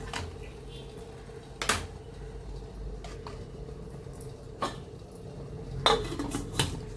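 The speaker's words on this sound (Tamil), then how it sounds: "இப்போ நம்ம இட்லி தட்டை வச்சிடலாம்" Metal clanks and clinks sound as a metal idli plate is set into an idli pot of boiling water in a home kitchen, a few sharp knocks spread over a steady low background hum.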